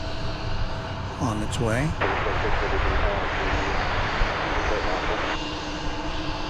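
A jet airliner at DFW Airport, bound for Sacramento, roars steadily and loudly nearby, with a rising whine layered over the engine noise. A person speaks briefly over the roar.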